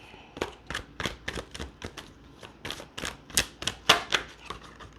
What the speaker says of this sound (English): I'm going to get a couple more tarot cards here.